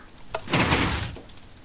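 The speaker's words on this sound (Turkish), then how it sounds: "E, bu kale kapısı. Böyle açılıyor. Böyle kapanıyor." A castle gate in the Minecraft video game swings open with a short click, then a loud, breathy wooden whoosh lasting under a second, heard alone.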